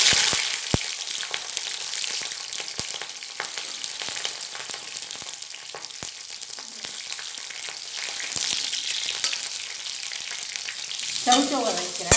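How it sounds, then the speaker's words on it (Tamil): Green chillies sizzle steadily in hot oil, with scattered sharp clicks and scrapes of stirring and a brief louder crackle near the end. "பச்சை மிளகா வதக்கிறேன்."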